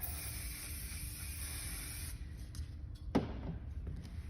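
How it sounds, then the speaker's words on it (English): Hairspray hisses in a steady continuous burst from an aerosol can onto hair styled for a Nutcracker Sugarplum look. The spray stops partway through, and quiet handling follows. "Going back to that hairspray,"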